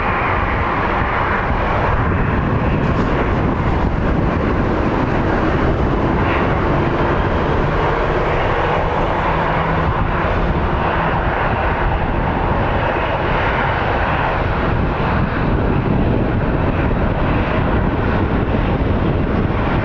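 Jet airliner engines roar loudly and continuously at Phoenix Sky Harbor International Airport, a steady broadband rumble with wind buffeting the microphone, no talking over it.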